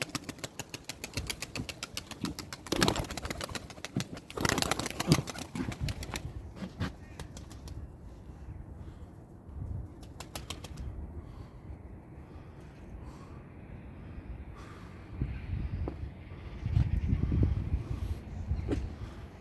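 Pigeons flying and landing on a rooftop, bursts of rapid wing flapping near the start and middle, with a low engine hum and faint clatter in the background and someone speaking briefly.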